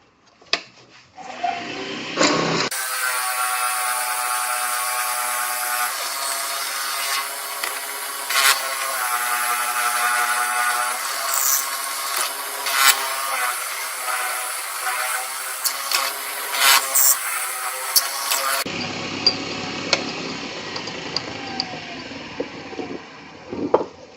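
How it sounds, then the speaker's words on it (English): A drill with an 11/32 bit bores into a segmented fountain pen blank, a steady whirring, grinding drone held at close range for about sixteen seconds, with faint shop noise and scraping before and after. "so that's drilled out, and again we used an 11/32 drill bit on that"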